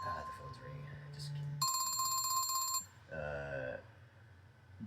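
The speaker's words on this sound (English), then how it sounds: "The phone's ringing." A telephone rings in a movie scene as a bright, sustained electronic bell burst, followed by a shorter second ring, over a low background hum.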